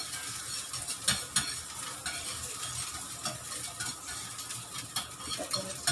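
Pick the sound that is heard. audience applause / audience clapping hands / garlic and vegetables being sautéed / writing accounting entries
garlic and vegetables being sautéed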